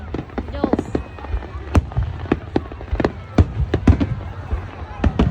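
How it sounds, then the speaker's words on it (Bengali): Japanese hanabi fireworks burst in the sky at an outdoor gathering, a rapid run of sharp, loud bangs and crackles at irregular intervals, with voices audible in the background. "হাতে এক টুকরো কেক আর আকাশে আতশবাজি, হানাবি একসঙ্গে"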